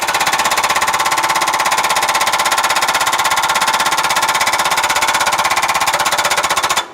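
Construction machinery at a downtown redevelopment site around City Hall, a loud rapid hammering rattle like a jackhammer, steady and unbroken for several seconds before cutting off abruptly at the end.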